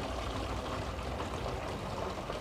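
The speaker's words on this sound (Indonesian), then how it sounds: "Ya, air hujannya kita masukkan ke dalam botol ini ya." Rainwater poured into a plastic bottle, a steady continuous splashing pour that runs the whole time, close and even, with no voices.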